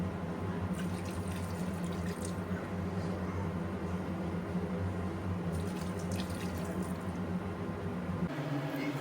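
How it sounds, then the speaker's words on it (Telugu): Water poured into a rice pot in a home kitchen, a continuous close splashing gush that runs steadily before cutting off near the end, with no talk. "ఇప్పుడు వాటర్ తీసుకొని ఇందులో వేసుకుందాము"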